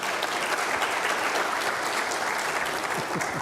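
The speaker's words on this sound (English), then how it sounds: "A nice round of applause for all of my panel here." A crowd claps steadily throughout, a dense even patter of applause from many hands that neither builds nor fades.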